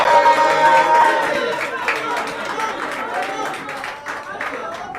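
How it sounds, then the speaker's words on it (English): Applause from a crowd at a political party press conference, with scattered claps mixed into loud chatter and voices, tapering slightly toward the end. "Give her a resounding and a thunderous applause."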